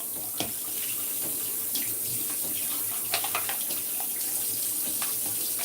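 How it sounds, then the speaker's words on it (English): Tap water runs steadily into a mixing bowl as it is rinsed out after mixing hair-lightening dye, a constant close splashing stream with a few light knocks from the bowl. "And I'm just rinsing out the bowl now."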